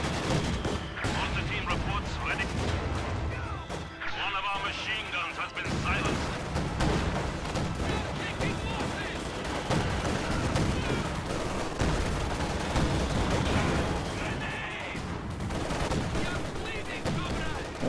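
Dense gunfire and rapid machine-gun bursts rage without pause through a video game battle, with booming impacts and game voice lines half-buried in the loud, continuous din.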